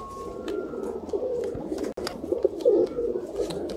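Pigeons for sale coo steadily at close range against a constant low murmur, with a few brief clicks and one sharp dropout midway.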